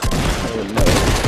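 A sniper rifle fires in Fortnite, a loud, dense burst of shots followed by a second rough, booming volley.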